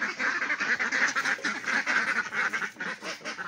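Domestic ducks being held and handled, quacking and honking repeatedly in close, loud overlapping bursts that continue throughout with a busy, agitated rhythm.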